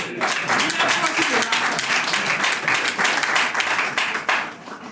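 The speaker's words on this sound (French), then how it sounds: "Acclamez pour lui" Audience applause and clapping at a product training session in Togo, a dense steady patter of many hands lasting several seconds, fairly loud with some voices mixed in, tapering slightly at the end.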